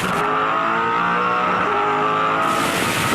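A 2007 V8 Supercar race car engine heard onboard roars loud and close with a steady, high-revving drone, pitch shifting slightly as it holds speed, with a brief tire-squeal edge and no talking.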